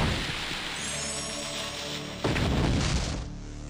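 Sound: explosion in video game Naruto Ultimate Ninja Impact

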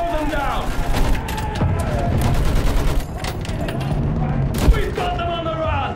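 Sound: machine gun fire in Battlefield 1 video game

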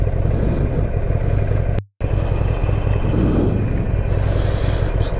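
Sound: car driving off

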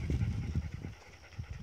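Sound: dogs running and panting

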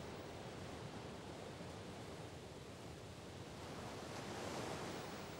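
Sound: strong river current

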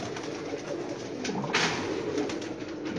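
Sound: pigeons cooing

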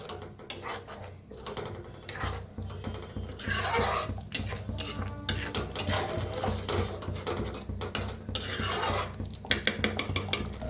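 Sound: stirring and mixing masala for mixed vegetable curry in pan

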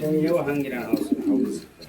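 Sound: pigeons cooing

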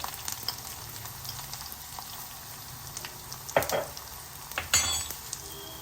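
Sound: mustard seeds spluttering in hot oil for sambar

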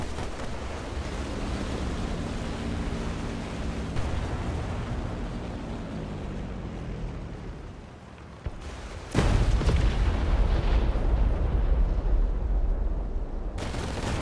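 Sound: artillery strike in War Thunder video game

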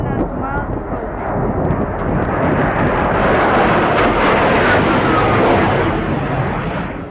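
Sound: Russian Su-24 jet aircraft passing close to a ship

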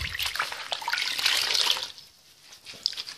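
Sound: water in a small basin

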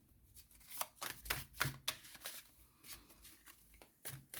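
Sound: tarot cards being shuffled

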